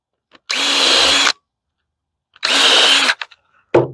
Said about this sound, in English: So I'm going to put a hole on top, put a hole on the bottom, on one end of each board